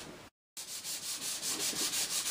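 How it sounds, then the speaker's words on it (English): Sandpaper rubs back and forth over layered paint on furniture to distress it, a close rhythmic scratchy swish repeating in quick even strokes after a brief pause. "I'm starting to sand right back again"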